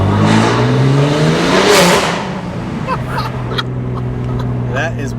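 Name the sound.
BMW G87 M2 engine revving hard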